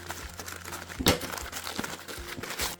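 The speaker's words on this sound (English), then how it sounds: "Let's grab the scissors and slice it open." Crinkly rustling of a simple package containing a Casio F-200W watch close by, with a sharp snipping tear of scissors partway through.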